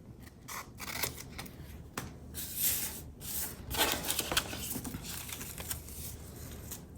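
Scissors cutting paper journal cards for a Halloween junk journal, close crisp snips in an irregular series with light paper rustling between cuts.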